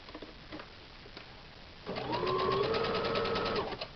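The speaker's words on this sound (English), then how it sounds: "do your back tack or your secured stitch" A sewing machine stitches boxing wraps in a short steady burst, its fast mechanical hum running for about two seconds after a quiet lead-in.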